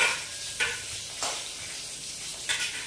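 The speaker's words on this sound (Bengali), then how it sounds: "সেই পনিরটা আমি কেটে নিচ্ছি, আর এই দেখো কড়া একটু ফ্রাই করে নেবো" Paneer sizzling in a hot pan (kadai) for an oats dinner, a steady soft frying hiss with a few sharper stirring scrapes, close and alone.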